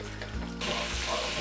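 Butter melting in a hot pan with extra oil for fried rice, giving a steady broadband sizzle that jumps louder about halfway through, with a low hum underneath.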